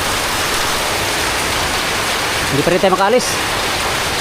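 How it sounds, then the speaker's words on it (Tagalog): Heavy rain from a typhoon in Infanta, Quezon province roars steadily and evenly all the way through, while a person speaks briefly over it near the end. "lalong pinalakas yung ulan"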